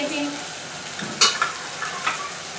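Curry leaves crackling in hot oil, a continuous sizzle with a few sharp spattering pops and stirring clatter near the middle, no voices.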